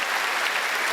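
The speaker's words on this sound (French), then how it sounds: "Bonne main d'applaudissement pour Guy Nantel, s'il vous plaît." Applause from an audience at a comedy gala for comedian Guy Nantel, a dense, loud burst of clapping filling the short moment with no voices over it.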